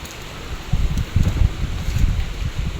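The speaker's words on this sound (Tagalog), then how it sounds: "Tapos po hangin po ang malakas." Strong typhoon wind gusts buffet the microphone in low, uneven surges, rising and falling with a rustling roar.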